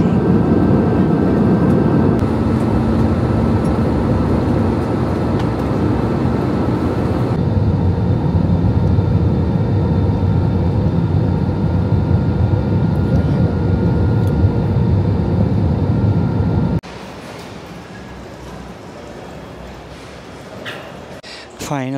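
A passenger airliner lands at Kuala Lumpur after a turbulent four-hour flight, with a loud, steady broadband engine and cabin roar that drops abruptly to a quieter rumble partway through, followed by softer cabin noise and faint clatter.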